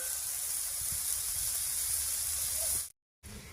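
Papaya frying in a pan for a Bengali papaya ghonto, a steady loud sizzle and hiss from start to end, briefly cut to silence near the end, with no talking.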